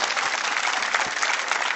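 Crowd applause with scattered cheers at a girls' 18s national junior tennis final, a steady broadband clatter of clapping filling the whole moment without speech.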